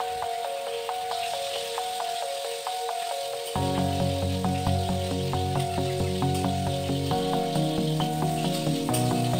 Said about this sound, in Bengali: কড়াইতে তেল গরম হলে বেগুন দিয়ে দিলাম ফ্রাই করার জন্য।